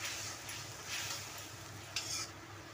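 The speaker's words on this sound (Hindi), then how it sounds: "सभी मसालों को हम मिक्स करेंगे चला के, इस तरह से इनको अच्छे से भूनेंगे" Spices roast in a kadhai while being stirred, a quiet, soft sizzle with gentle scraping strokes and a brief clink of the spoon.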